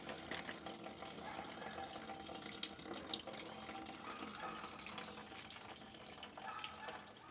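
Coolant drains from an air compressor pipe into a bucket as a faint, steady trickling pour, continuous and low in level throughout.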